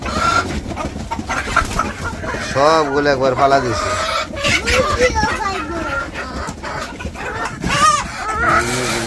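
Hens cluck and squawk excitedly at close range as village chickens crowd in for feed, their calls rising and falling over loud talking.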